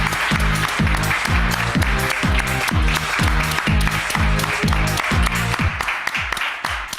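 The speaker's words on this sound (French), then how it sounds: "Applaudissements." A studio audience at a French TV talent show applauds loudly and steadily, the clapping mixed with a pounding rhythmic music beat throughout and thinning slightly toward the end.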